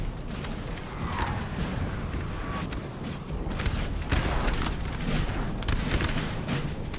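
French artillery guns in the Napoleon Total War 3 video game, a battle of Baza scene: scattered booms and distant gunfire over a rumbling battlefield din, with creaking and mechanical noises mixed in.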